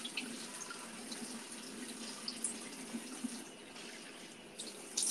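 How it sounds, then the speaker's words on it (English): Water runs steadily from a bathroom tap into a sink while a face is washed, a continuous close hiss with faint splashes and no talking. "Okay, we're gonna wash my face."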